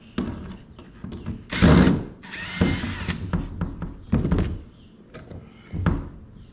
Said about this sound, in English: So we're gonna back out our screw now.